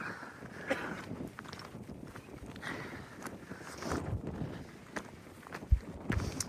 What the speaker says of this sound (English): we're walking through a field right now